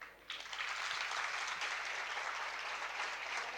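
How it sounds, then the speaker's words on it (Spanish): Sustained applause from an audience after a talk by a physician, a dense steady wash of many hands clapping that swells in quickly after a quiet start and holds evenly. "Fuerte el aplauso, por favor."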